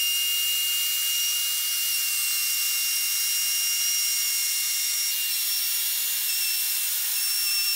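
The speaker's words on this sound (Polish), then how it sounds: "Teraz podłączę tylko smoka, zasilanie do frezarki i możemy ruszać." A wood router running with a dust extractor attached, cutting wood while building a crosscut sled for a table saw, gives a loud, steady high-pitched whine and airy hiss that holds unbroken for the whole stretch.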